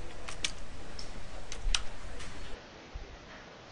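Computer keyboard typing a command into a CentOS terminal, a handful of light, irregular key clicks close to the microphone over quiet room hiss, with no talking.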